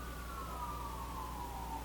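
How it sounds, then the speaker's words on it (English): A distant siren wails faintly with a slowly falling tone over steady low background hum. "do you guys hear the sirens?"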